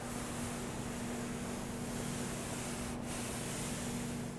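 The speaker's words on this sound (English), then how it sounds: "if I grab my hand and I just glide across the paint, you're gonna hear how much contamination the paint actually has" A hand glides across contaminated truck paint, producing a steady gritty, sandy rubbing hiss, close and continuous, with no talking.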